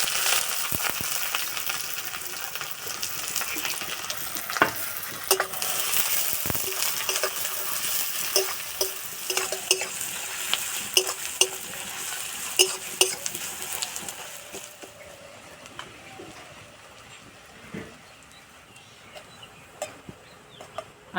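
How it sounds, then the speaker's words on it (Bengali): Sliced onions fry for birista in a pan with a steady, fairly quiet sizzle, broken by occasional light clinks of a utensil against the pan. The sizzle softens toward the end. "এবার আমি পেঁয়াজের বেরেস্তা ভেজে নেব।"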